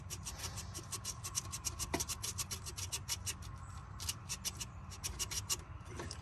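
Rapid rhythmic rasping of sandpaper scrubbing a rusted metal oil filter canister from a 1951 Willys jeep truck, continuous and close, with a brief pause near the middle.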